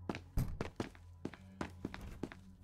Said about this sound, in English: I heard a footstep